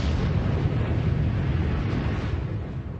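Kilauea volcano on Hawaii erupts in lava fountains, producing a continuous deep, rumbling roar with a steady crackling, gushing texture and no pauses.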